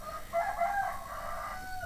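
A rooster gives one loud, drawn-out crow that lasts nearly two seconds, clear and close with no talk over it.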